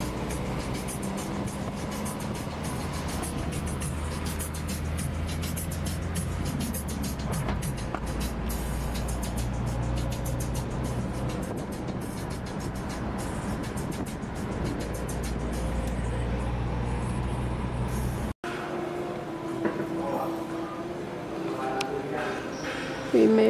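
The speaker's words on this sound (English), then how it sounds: "Got this beautiful car, guys." Car driving along a street in Havana, Cuba, a steady close engine and road rumble running for most of the stretch before an abrupt cut to quieter ambience, with talking in the background.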